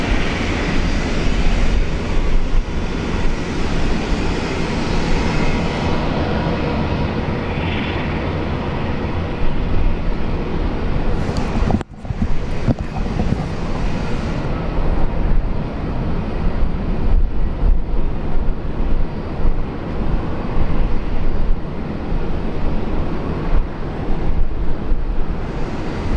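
A Velocity airliner lands on runway 19 left at Brisbane International Airport, with a loud, sustained roar of engines and rushing air that dips briefly midway, then rumbles on at close range.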